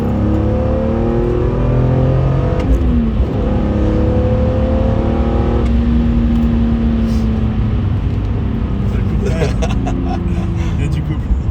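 BMW M3 E46 engine revving up to 5000 rpm, a loud, continuous in-cabin drone that climbs in pitch in rising sweeps, with voices talking over it.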